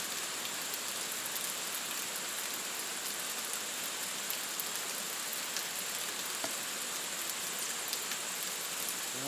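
Steady rain pours onto a hut standing in the middle of a paddy field, a dense, even hiss with scattered drops pattering on the roof, continuous and enveloping with no voices.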